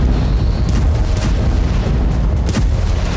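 North Korean artillery shelling South Korea near the DMZ: loud, dense booming blasts and rumbling explosions that follow one another almost continuously, close and heavy with no talk.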